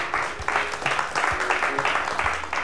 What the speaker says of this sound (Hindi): तो जोरदार तालियां एक बार आशीष जी के लिए